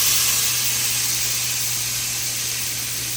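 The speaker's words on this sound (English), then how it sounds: "I'm also adding in the diced onion." Diced onion and tomatoes sizzling in a hot pan for arroz con pollo, a loud, even, continuous hiss of cooking with no pauses.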